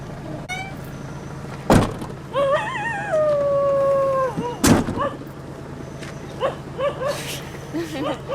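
An injured dog with a large gash in its leg howls in long, wavering, rising and falling cries, close and clear. Two sharp loud thuds and some whimpering yelps come between the howls.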